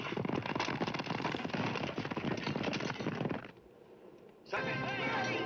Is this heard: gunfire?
yes